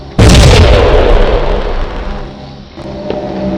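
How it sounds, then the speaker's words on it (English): A single loud cannon blast booms out, its deep roar rolling and slowly fading over several seconds. "The colonel gives the order to fire the cannons."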